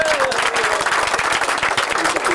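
Crowd applause at the prize ceremony of a 50cc Solex moped endurance race at Cora Mundolsheim in 1990, steady dense clapping throughout with a voice faintly audible beneath.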